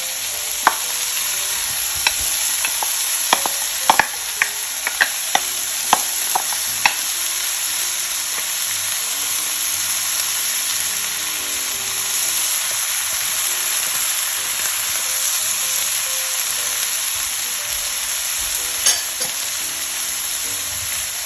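Green peppers dropped into a STAUB Chistera pan over medium heat, producing a steady close hissing sizzle, punctuated early by sharp clicks and taps of stirring that thin out later.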